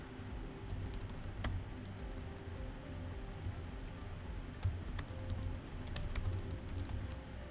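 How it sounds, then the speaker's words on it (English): Close, quiet typing on a computer keyboard, with steady irregular key clicks and a few sharper taps as text is entered, with no talk. "I'll just go ahead and type it out."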